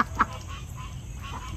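Ducks in a backyard give a few short quacks over a steady low outdoor hum, with one brief louder call near the start.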